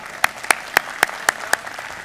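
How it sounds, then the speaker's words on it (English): Applause at a Kappa Alpha Psi awards program, a crowd clapping under regular loud, sharp claps that land about every quarter second, like one nearby person clapping in rhythm. "Give him a round of applause"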